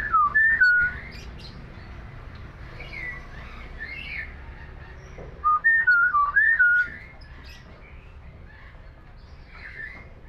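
A hill myna gives clear, looping whistles in two short bursts, with softer chirps and squawks scattered between them against a quiet room background.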